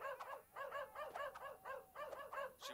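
A dog in the video game DUDE, STOP barks in a quick, even run of about a dozen short yelping barks, close and alone without talk.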